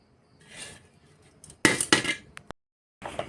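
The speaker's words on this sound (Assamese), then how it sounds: "এতিয়া উতলি থাকক ঢাকনি মাৰি থৈ দিম" A lid is set onto a cooking pot of rice and pig feed left to boil, giving a few sharp metallic clanks and clinks, loud and close, with a brief softer rustle before them and no talk.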